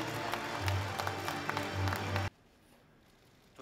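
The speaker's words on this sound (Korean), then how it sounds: "홍보대사로 위촉되신 차승원 씨에게 힘찬 격려의 박수를" Applause from the audience at a Disability Day ceremony greeting a newly appointed ambassador, a dense burst of clapping that cuts off abruptly after about two seconds, leaving near silence.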